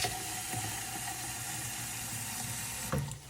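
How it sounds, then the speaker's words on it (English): Water pours into a blocked shower drain, a steady close hiss and splash running for a few seconds before a short clunk near the end. "We got to put some water in here."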